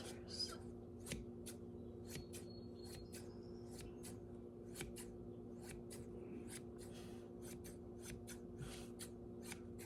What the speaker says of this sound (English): I also have this pair of viscose scissors.